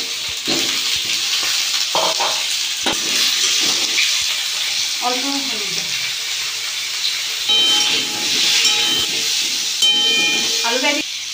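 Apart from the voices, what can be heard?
potatoes frying in hot oil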